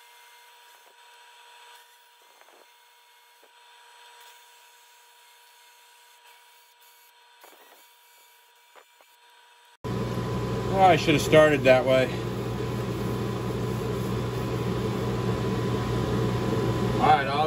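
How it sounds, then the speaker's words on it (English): Power sanding a resin and spruce cone dragon egg on a wood lathe to remove CA glue, a loud steady whirring grind that starts abruptly midway after a quiet stretch with a man's brief speech. "I have had to resort to power sanding a little bit to try and get some of the CA off."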